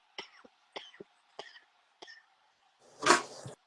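One person coughs four times in short, evenly spaced bursts, then makes a longer, louder rough throat-clearing sound, all close up in a quiet room.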